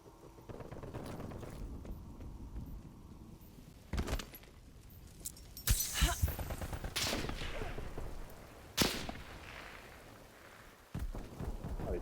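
Scattered sniper-rifle shots and other gunfire in a chaotic vehicle-combat video game, sharp bursts landing every few seconds amid a busy rumbling background, with no talking.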